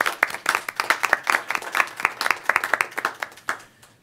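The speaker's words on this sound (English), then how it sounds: "I just want to give you a round of applause." A small group clapping at a school board meeting, sparse and distinct individual claps in an uneven rhythm, close by in a quiet room.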